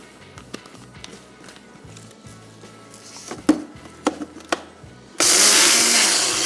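An electric grinder coarsely crushing whole spices, starting with a few knocks and taps, then one loud, continuous whirring burst that runs to the end. Nobody speaks.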